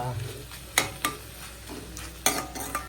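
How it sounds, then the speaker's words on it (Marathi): Dried shrimp and potato pieces are stirred through a frying masala in a pan, with a soft sizzle underneath and several sharp spoon scrapes and knocks against the pan. "आंबार आणि बटाट्याला मिक्स करून घ्यायचंय मसाल्यामध्ये"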